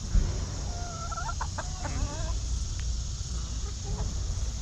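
Hens pecking at cornflake crumbs give a flurry of close clucks and short squawks early on, then quieter sporadic clucks over a steady low hum.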